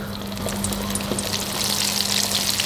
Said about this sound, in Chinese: 接着再裹一层淀粉，然后把它下锅炸一下